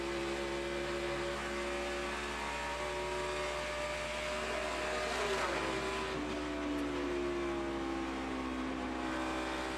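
A NASCAR Sprint Cup car on fresh tires runs at speed around a track, its engine drone holding a steady pitch then sweeping downward midway as it passes, a continuous moderately distant roar with no talking.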